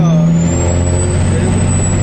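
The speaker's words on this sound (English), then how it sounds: "Got the engine brake working again." A truck's engine brake working after worn cables were repaired, a loud, steady low drone with a sustained high whine on top, heard close while on the road.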